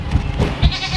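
A goat on a small farm gives a brief, close bleat, a quick wavering cry lasting about a second.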